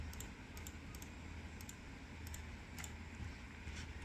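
Computer keyboard keys being pressed, including the delete key, while editing CNC foamboard cutter plans: several light clicking taps in irregular bursts over a steady low fan hum.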